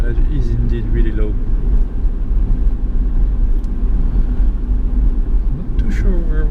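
A 1997 Honda Orthia wagon, a sixth-generation Civic wagon, drives along with a steady low engine and road rumble filling the cabin, someone talking at the start and end over it.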